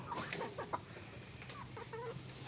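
Chickens cluck in short, repeated bursts close by, with a steady background hiss and no talking.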